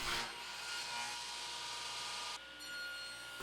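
A saw fitted with a riving knife trims the gouged edge off a wooden tabletop board, giving one continuous, even cutting whine that shifts slightly in tone near the end of the pass.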